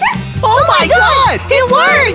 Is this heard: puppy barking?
yes